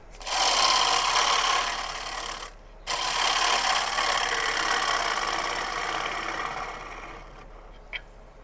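Bottom feeder gouge cutting American elm on a wood lathe, a steady, loud broadband hiss of tool on spinning wood, briefly pausing after about two seconds and then resuming and running on with no talk.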